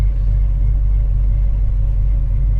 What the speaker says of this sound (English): Oh, that exhaust. That doesn't get old.